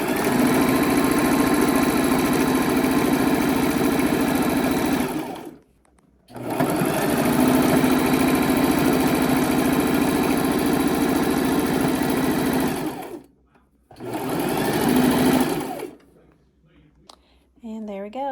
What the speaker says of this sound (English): flip it over, and then I'm going to sew straight across.